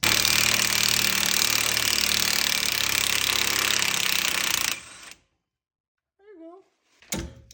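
A loud, steady power tool buzzes and rattles for several seconds loosening a bolt during Volvo XC70 strut replacement, cuts off abruptly, and is followed by a few brief mechanical whirs and a thunk.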